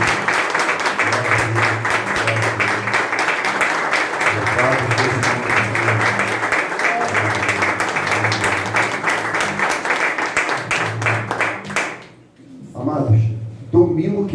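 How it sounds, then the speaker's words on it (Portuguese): A church congregation claps in a steady, rhythmic beat while a voice carries over the top, then the clapping stops abruptly near the end and a few scattered sounds follow. "Dê uma salva de palmas ao Senhor em nome de Jesus."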